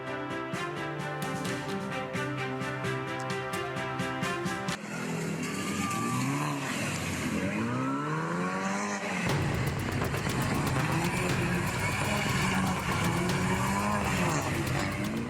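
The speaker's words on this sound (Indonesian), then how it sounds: "Satu persatu mobil mewah melakukan aksi nekat dan berbahaya drifting di persimpangan Jalan Metro Pondok Indah Kebayoran Lama, Jakarta Selatan" Luxury cars drift one after another through a street intersection at Jalan Metro Pondok Indah, Kebayoran Lama, South Jakarta, with sustained tire squeal and engine roar, steady and loud throughout.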